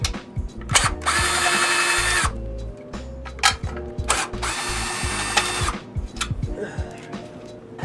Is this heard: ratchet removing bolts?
yes